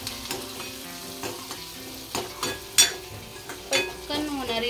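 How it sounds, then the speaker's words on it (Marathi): Turmeric, salt, spices and coriander powder stirred in a frying pan for chicken liver masala, with soft sizzling under repeated scrapes and clinks of the spoon against the pan, no voices. "आता आपण हळद, मीठ, मसाले आणि धना पावडर टाकून घेऊया। तेही चांगलं हलवून घेऊया एकत्र।"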